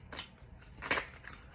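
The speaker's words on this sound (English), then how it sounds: "So I am going to shuffle and cut the deck." A deck of cards shuffled and cut by hand, giving a few soft, quiet papery riffles and snaps in a short burst, with no talk over it.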